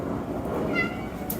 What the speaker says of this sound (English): If my cat will stop singing.